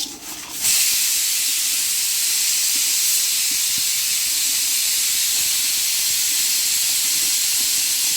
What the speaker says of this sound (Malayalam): കുക്കർ വിസിലടിക്കുന്ന സൗണ്ട് കേൾക്കുന്നുണ്ട്